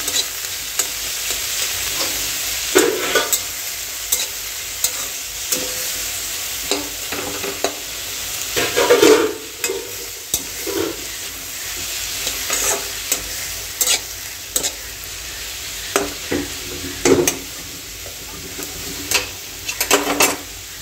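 Vegetables frying in oil in a pan, a continuous sizzle over twenty seconds broken by repeated scraping and clinking stirs of a utensil against the pan, with no voices.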